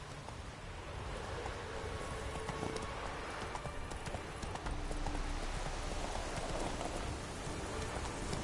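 Steady, quiet clip-clop of the horse Roach's hooves in The Witcher 3, an even trotting rhythm under soft rain-like ambience with no talking.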